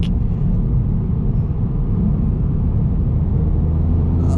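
A Ford Fiesta ST with a TRS Stage 1 remap accelerates hard in fourth gear, a loud, steady low engine drone and road rumble heard from inside the car, with no talk.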